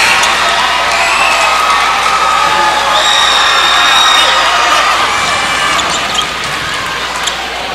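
A high school basketball crowd in Dothan cheers loudly on its feet, a dense continuous roar of shouts and whoops that barely eases toward the end.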